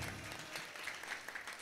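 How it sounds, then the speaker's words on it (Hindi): Audience applause at the grand finale of a Christian singing competition, steady dense clapping throughout without a break, moderately loud. "एक बार फिर तो जोरदार ताली मारते रहो"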